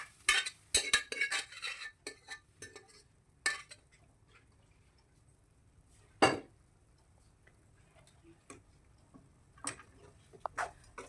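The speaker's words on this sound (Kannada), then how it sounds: "ಈಗ ಇದನ್ನು ನಾನು ಒಂದ್ಸರಿ ಚೆನ್ನಾಗಿ ಮಿಕ್ಸ್ ಮಾಡ್ಕೊಳ್ತೀನಿ." Cooked mutton is mixed into fried onions in a pan, a metal spoon scraping and clinking in scattered bursts with quiet gaps between, close and soft, with no talk.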